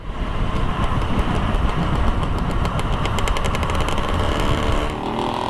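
Two-stroke DT-125 and XTZ-125 motorcycles racing a short distance, engines droning loud and steady throughout with a rough, buzzing rattle, revs holding near constant until a slight drop at the end.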